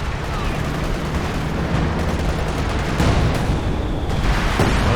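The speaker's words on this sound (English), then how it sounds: "There's this barrage coming through on the machine gun" Machine gun fire and an artillery barrage in Company of Heroes 2, a dense continuous rumble of shots and blasts with heavier booms near the middle, loud and busy.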